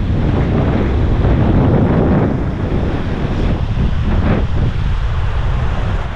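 Strong wind in a cold North Sikkim valley roars loudly and without a break, buffeting the microphone with a dense, rumbling rush for several seconds.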